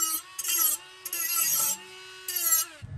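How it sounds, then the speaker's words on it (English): Milwaukee die grinder with a grinding wheel cleaning up metal edges on a press plate, a high whine rising in three short bursts with brief pauses between them, close and fairly loud. "To clean up the edges, I'm going to use my Milwaukee die grinder with the grinder wheel."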